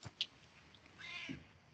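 A house cat meows faintly, a short soft call and a longer drawn-out one, quiet and somewhat distant.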